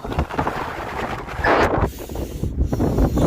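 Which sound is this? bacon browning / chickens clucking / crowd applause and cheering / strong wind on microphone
strong wind on microphone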